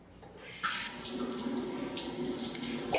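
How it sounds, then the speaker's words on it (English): Hot water gushing from a kitchen tap over a long knife blade, a steady close splashing stream that starts abruptly and runs on continuously. "I'm going to do that old trick of running a nice long knife under hot water to get the blade hot"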